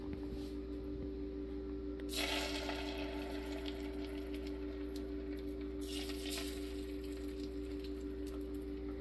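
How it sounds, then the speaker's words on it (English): Beaten egg poured into a hot Holstein omelet maker, giving a steady close sizzle and crackle over a constant electric hum, with two louder bursts of frying hiss as the liquid hits the plates. "Pour you a little egg and then add whatever you want to it."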